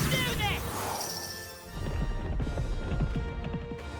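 Horse hooves clatter in a rapid run of hits during a horse-drawn charge attack in the fantasy video game Metaphor: ReFantazio, loud and close under game music and effects, with a whinny-like cry near the start.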